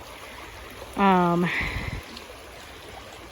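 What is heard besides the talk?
dogs walking through stream water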